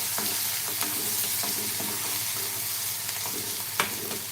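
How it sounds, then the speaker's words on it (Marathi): Onion frying in a pan for a spicy black chickpea curry, with a steady close sizzle under repeated stirring scrapes and a few sharper utensil clicks, no voices. "कांदा चांगला आपल्याला भाजून घ्यायचा आहे"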